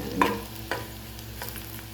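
Onion and garlic sizzle and get stirred in a pan for eggplant with shrimp paste, with a couple of scraping stirs near the start over a low, steady frying hiss. No one speaks.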